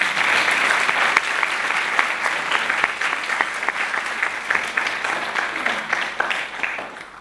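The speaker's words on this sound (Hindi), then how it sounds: "ताली बजा दो फिर।" A room of people in a meditation-hall gathering claps together in a sustained burst of applause that stays loud for several seconds and then tapers off, with no talk.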